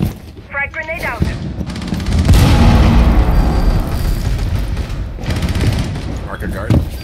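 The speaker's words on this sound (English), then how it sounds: "Frag grenade out." Frag grenade exploding in a video game with a loud, close boom that rumbles on for a few seconds, amid scattered gunfire, and a voice talking briefly just before.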